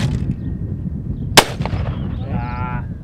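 A single gunshot fired into the dirt outdoors at a shooting range, one sharp loud crack near the middle against a steady background rumble, followed by a brief faint tonal sound.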